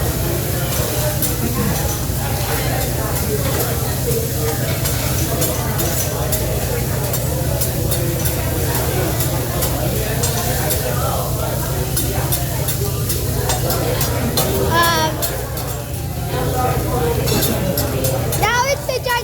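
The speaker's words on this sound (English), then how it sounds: "mixing all the soy sauce up" Rice being stirred and fried with soy sauce in a pan, a constant loud sizzle with scraping and occasional clinks of the utensil, while a person talks over it.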